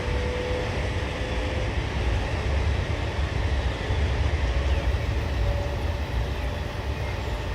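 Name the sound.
H5 Shinkansen high speed train running at speed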